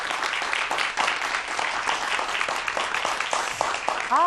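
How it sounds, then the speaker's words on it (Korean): An audience at a science lecture claps steadily in sustained applause, many hands at once, filling the room for several seconds without a break. "다시 한번 큰 박수 보내주세요"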